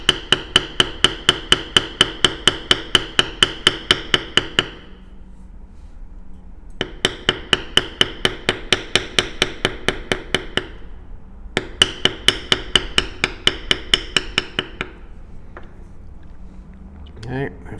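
A mallet taps a metal beveler into leather while tooling a card holder, in three quick runs of sharp, evenly spaced strikes with short pauses between.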